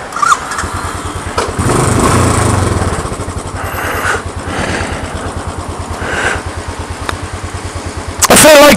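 A Royal Enfield Continental GT motorcycle pulls away, its single-cylinder engine rising loud and close, then settling into a thumping cruise before a brief burst of wind noise at the end.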